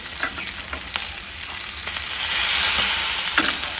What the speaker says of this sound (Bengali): মাছটা উল্টায় দিই